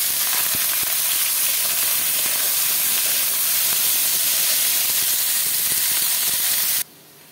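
Dried chilli split in half, cumin and two medium onions hit hot oil for a dhaba-style mutton liver dish, giving a loud, dense, steady sizzle that cuts off abruptly at the end.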